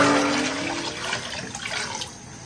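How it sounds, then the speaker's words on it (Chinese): Water gushes and splashes into a dry cooking pot, a loud steady pour that gradually softens as it continues, with no talking. "加水"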